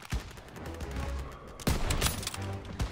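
Gunfire in the World War II shooter game Call of Duty WWII: rapid bursts of rifle and machine-gun shots, with a dense volley in the second half.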